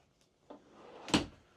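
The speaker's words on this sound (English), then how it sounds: "6 pull-out drawers here for the dresser" A pull-out dresser drawer in a 2025 Zinger 320FB travel trailer slides and bumps shut, with a faint tap and then one firm close nearby in a quiet room.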